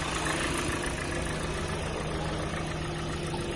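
A 2017 Hyundai Sonata New Rise with a 2.0-litre engine idles under the hood, a steady, even mid-toned hum with no variation across the short stretch and no voices.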